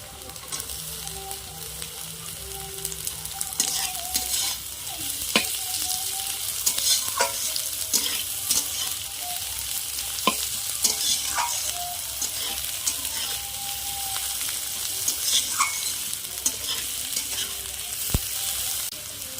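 Chopped carrots stir-fried in a pan, a steady sizzle with scattered scraping clicks and taps of a spatula through the whole stretch, fairly close and with no voices.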